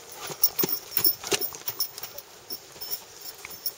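Arabian horse hooves clip-clopping in a paddock, a run of light, uneven taps at close range with faint outdoor background.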